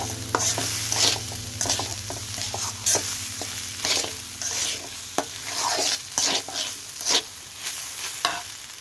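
Rice for pulao is stirred and fried in a pot, with a spoon scraping and knocking in irregular strokes over a low, steady sizzle close by.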